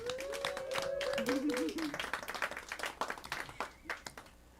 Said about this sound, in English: let's get the show started only by a big round of applause for the people on stage